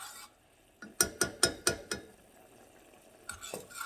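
A spoon stirs a thickening cheese sauce for low-sodium mac and cheese in a pot, making a quick run of five sharp scraping clicks, then quiet, then a few softer scrapes, close and alone.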